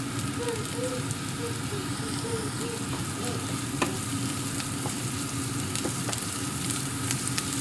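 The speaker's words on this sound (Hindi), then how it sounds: "रसुनटा एकटू पेंयाजेर साथे भेजे नेब भालो करे।" Garlic fries together with browned onions in an oiled pan for a Bengali soybean chunk curry, making a continuous close crackling sizzle with a few sharp ticks of stirring.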